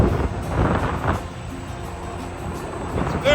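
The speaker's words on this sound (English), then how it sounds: "It's somewhat windy here" Gusty wind buffets the microphone beside a highway while a small two-axle tiny home is being towed, a low rumbling roar that swells and eases in waves.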